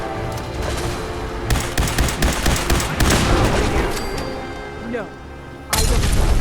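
Grenade blasts and gunfire in a shooter video game facing fish-like creatures, a dense run of loud booms and crackling shots with a brief lull before another burst, while a player talks over the action.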